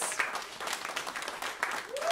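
Comedy-club audience applauding at a stand-up show, a dense wash of clapping that runs throughout, with a brief spoken word and a short tone near the end.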